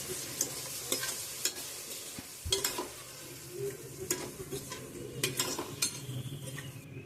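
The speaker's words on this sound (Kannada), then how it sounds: "ಎಲ್ಲವನ್ನು ಹಾಕ್ಕೊಂಡು ಒಂದು 5ರಿಂದ 10 ನಿಮಿಷ ಮತ್ತೆ ಫ್ರೈ ಮಾಡ್ಕೊಳ್ಳೋಣ." Mint leaves, ginger garlic paste and curd fried together for paneer biryani: an irregular run of spatula scrapes and clanks against the pan over a soft, continuous sizzle, close by and free of speech.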